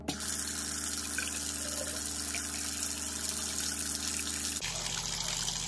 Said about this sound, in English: it's draining really good right now, so it's not holding any water whatsoever right now